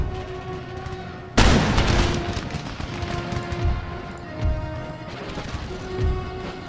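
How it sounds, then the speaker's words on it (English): Round shot fired from artillery in the game Empire: Total War during a battle in India: one sharp heavy crash followed by a rolling rumble, with later muffled booms over a steady battlefield din. "Let's change this artillery to a round shot and continue just to pound into these guys fleeing."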